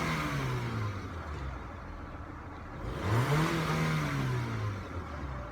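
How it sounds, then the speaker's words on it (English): A car engine revs up once from idle, its pitch rising and then falling back, heard up close and alone over a steady running hum. "I'm gonna do a little rev up before we go ahead and call this a day with this car."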